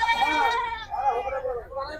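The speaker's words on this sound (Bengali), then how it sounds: "এই ছাগলটি" A goat bleats at the Gabtoli livestock market in Dhaka, with long wavering cries close by, one after another, over crowd murmur and people talking.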